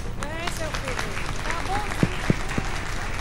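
Audience applause at a formal award ceremony held in a municipal chamber, steady clapping throughout with a few sharper individual claps standing out near the end.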